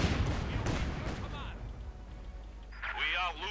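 A mine detonates in the strategy game Company of Heroes 2, a burst of explosive booms and gunfire rumbling low, followed by further sharp crackling effects, all fairly quiet.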